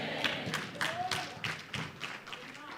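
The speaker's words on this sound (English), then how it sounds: "Is that clapping hands?" A church congregation claps hands during a Sunday service, with irregular sharp claps repeating every fraction of a second over a low murmur of voices in a reverberant hall.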